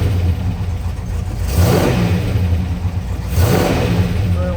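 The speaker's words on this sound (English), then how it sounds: "And let's give a couple revs." A 1966 Dodge Charger's rebuilt 426 Hemi V8 revs up twice in quick bursts, each swelling and falling back to a steady low idle rumble, close by with no talking.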